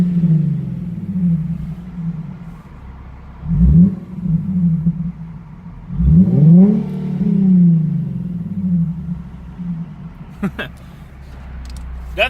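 A Nissan 370Z's exhaust, heard from inside the car, rumbles at idle and then surges through two strong revs that climb and fall back, loud and close, with a few clicks near the end.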